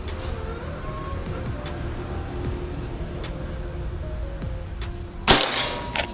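A single sharp shot from a PCP air rifle fitted with a Predator slug barrel cracks out near the end, rising above steady background noise and faint distant voices on an outdoor range at 50 metres.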